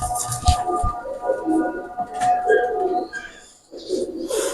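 Pakistani import Teddy pigeons coo close by in warbling, throaty bursts, with a few sharp wing flaps or clicks at the start and a short lull before the cooing resumes.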